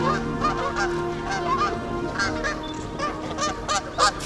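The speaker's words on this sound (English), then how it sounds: "Is the duck making that sound?" Duck honking repeatedly near a brood of ducklings, several loud nasal honks in an uneven series, close by and with no talk over them.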